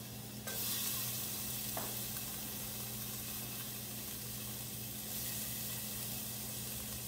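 Garlic and half an onion sauté in a hot pan, giving a steady, close sizzle that starts abruptly and keeps going, with a brief stir and scrape early on.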